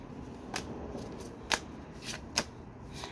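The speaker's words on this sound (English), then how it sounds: "I kind of like the shuffle on camera." Oracle cards being shuffled by hand for a tarot-style reading, soft papery riffles with several distinct snaps, faint and close in a quiet room.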